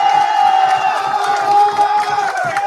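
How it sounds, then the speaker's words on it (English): Loud crowd cheering with sustained whoops and shouts, a dense, bright roar that holds steady for a few seconds, with individual clapping hardly distinguishable in the mix. "Now y'all can clap."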